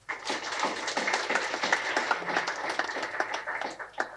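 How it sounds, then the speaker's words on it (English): An audience at a business leaders' networking event gives a steady round of dense applause, moderately loud and continuous for several seconds, with no talking over it. "it deserves a big round of applause"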